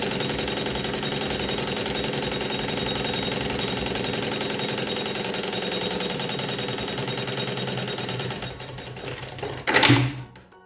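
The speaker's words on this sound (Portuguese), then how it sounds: "Vou passar aqui uma costurinha de segurança para prender o vivo no tecido" Sewing machine stitching a zipper and piping onto fabric for a children's lunch bag, a steady fast mechanical chatter running continuously for about nine seconds before it stops, followed by a brief louder handling clatter.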